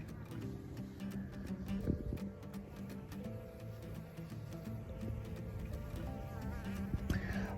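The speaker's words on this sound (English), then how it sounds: "Look, we already have a honeybee." A honeybee buzzes near a beehive being assembled, a steady low drone that holds throughout, with faint ticks and light handling knocks and no speech.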